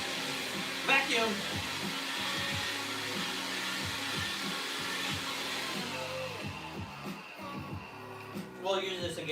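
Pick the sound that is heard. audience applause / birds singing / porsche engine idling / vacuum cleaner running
vacuum cleaner running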